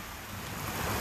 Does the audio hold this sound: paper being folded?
no